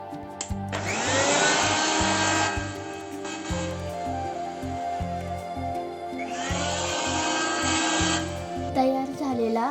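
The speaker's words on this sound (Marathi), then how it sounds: "ग्राइंडर मध्ये त्याची पेस्ट करून घ्यावी." A kitchen grinder blends jamun fruit with mint leaves, cumin powder, chaat masala and grated ice into a paste, running loud in two long bursts with a short pause between, a steady close whir.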